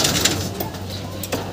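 Racing pigeons, including a two-time pooling winner, coo softly at a loft in San Rafael, Bulacan, with low murmuring calls over background noise and a voice speaking nearby.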